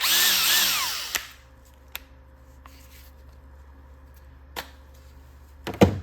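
A Snap-on two-speed cordless drill whirs loudly for about a second, then stops; a few clicks and light knocks follow in a quiet room.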